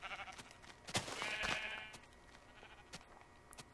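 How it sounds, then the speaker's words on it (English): Sheep bleating in the Minecraft video game on Xbox 360, a couple of close, wavering bleats in the first two seconds followed by quieter game ambience. "Oh, sheep."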